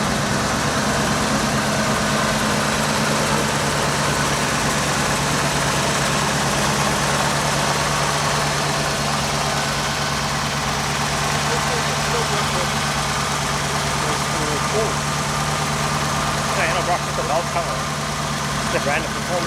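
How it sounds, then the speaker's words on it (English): A Chevy El Camino idles at an outdoor old car show, its low, steady engine rumble continuous and close, with people talking nearby over it. "the engine running"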